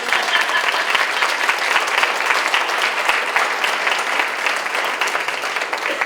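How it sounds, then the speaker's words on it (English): Sustained, dense applause from an audience at a retirement party, steady and loud throughout with no pauses. "I think that deserves a round of applause."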